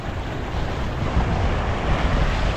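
Strong waves and fast-rushing water roar in a dense, continuous wash, loud and close, with wind buffeting the microphone and no voices.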